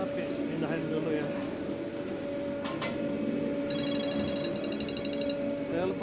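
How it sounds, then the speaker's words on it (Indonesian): A telephone rings with an incoming call at a fried rice stall, a short bright trilling ring repeating twice in the middle, set against steady background hum and kitchen noise. "Telepon masuk lagi ya."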